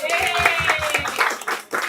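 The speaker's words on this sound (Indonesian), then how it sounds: "Tepuk tangan dulu." Group of trainees at a company product-knowledge training camp claps hands together in a quick rhythmic burst of several even claps, close and loud, with voices mixed in.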